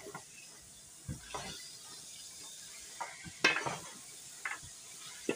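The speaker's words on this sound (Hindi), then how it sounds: "दाल को हम फुल फ्लेम पे भुनाई करेंगे, भून लेंगे अच्छी तरह से।" Whole masoor dal roasting in a pan over a full flame, a soft sizzle punctuated by scattered clinks and scrapes of a spoon stirring against the metal, quiet and close.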